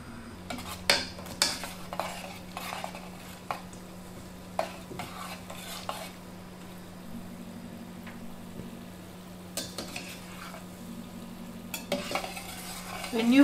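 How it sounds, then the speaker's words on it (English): Condensed milk balls frying in hot oil crackle and bubble in a pan while a utensil stirs them, making repeated scraping clicks and clinks, with a louder clatter at the end. "When you fry it, always make sure that you stir so it fries equally."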